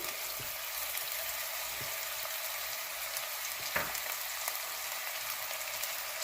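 Green chillies and curry leaves sauté in hot oil with a steady, quiet sizzle, broken by a few soft clicks and one sharper spatter near the middle.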